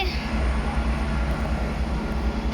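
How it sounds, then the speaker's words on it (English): A slow train rolls past at Reading station, a steady broad rumble with low rail and wheel noise held throughout, close and continuous with no talk over it. "there goes a slow train right now."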